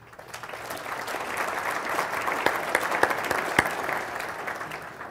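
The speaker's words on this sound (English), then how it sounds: "I'm happy to join in that applause." An audience at a Chicago business luncheon breaks into applause, a few seconds of steady clapping that swells and then tapers off.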